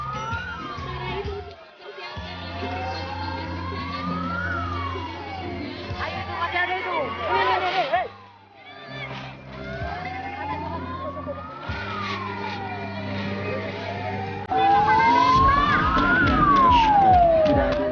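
A fire engine siren wails in rising and falling sweeps throughout a disaster-response drill simulating a burning house, loud and close, with steady engine rumble and crowd murmur beneath.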